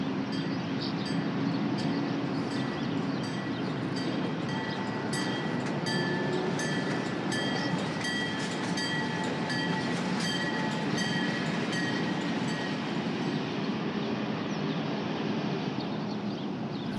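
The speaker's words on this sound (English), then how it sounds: "The first train arrives from Brooklyn and discharges the eager patrons." An ALCo diesel train from Brooklyn pulls into the Belmont Park racetrack terminal, its steady rail rumble and rolling wheel noise continuous and fairly close throughout, with faint clatter and squeal over the tracks.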